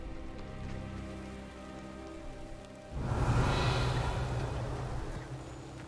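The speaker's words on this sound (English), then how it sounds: "Also got dark and it's raining." Steady rain in the Hogwarts Legacy game at night starts abruptly partway through, a dense close hiss of drops on surfaces continuing loudly to the end after a quieter ambient stretch.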